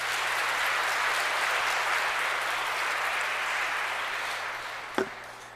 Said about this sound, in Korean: 오늘 첫 영성취하신 백규진, 카타리나, 서소현, 안젤라, 박성열, 요셉, 조선혜, 로사 네 분들에게도 뜨거운 박수 부탁드립니다